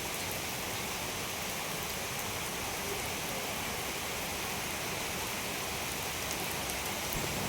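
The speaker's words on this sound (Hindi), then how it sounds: "बारिश बहुत तेज़ों के साथ हो रही है।" Heavy rain pours outdoors as a dense, even hiss that holds steady and unbroken at moderate loudness throughout, with no voices.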